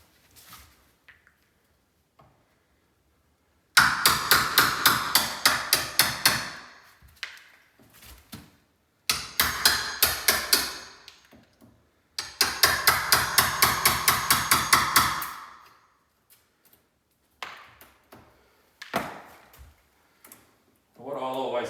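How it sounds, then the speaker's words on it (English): A hammer strikes a chisel to cut a wooden door for an entrance lock, with close, loud rapid blows in three long bursts and a few single knocks, while people talk between the strikes. "when the chisel's going in the way that the blade's faced"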